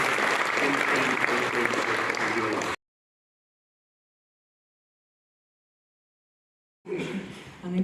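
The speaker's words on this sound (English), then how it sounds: "We can give them a round of applause for sure." Audience applause for Ukrainian journalists at an international media forum, a dense roar of clapping that cuts to silence for about four seconds and then returns, with a voice briefly heard over it.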